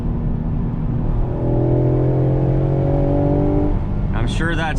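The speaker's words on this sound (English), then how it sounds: "I doubt that is genuine engine and exhaust note" 2020 Ford Explorer ST engine and exhaust note rising under acceleration as a steady drone that climbs in pitch, heard from inside the cab and then cut off by a brief voice at the end.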